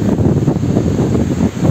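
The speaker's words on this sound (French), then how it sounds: "Il y a du vent." Steady, loud wind buffets the microphone in a continuous low rumble, with no pauses and no voices.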